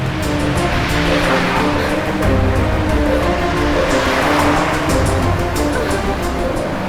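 A car drives along a road, giving loud continuous wind and road rumble with no breaks.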